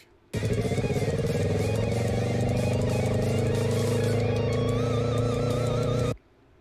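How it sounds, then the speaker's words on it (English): A motorcycle engine revs loudly and steadily up close for about six seconds as the rider practices wheelies in an industrial area, its tone wavering slightly before cutting off abruptly. "Biker was in an industrial area practicing wheelies away from the main streets"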